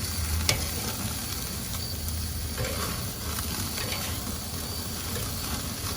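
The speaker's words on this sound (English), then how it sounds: "Now we're gonna flip them over. Sear that back side." Ribeye steaks sear on a Weber kettle grill, a steady close sizzle that carries on evenly, opened by one sharp clack from the flip, with no talking.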